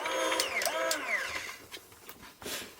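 A small electric motor in an electronic airsoft speedloader whirs as it spins the drive wheels, a quiet rising and falling whine with a few short clicks and bursts over roughly three seconds, nearby and without speech.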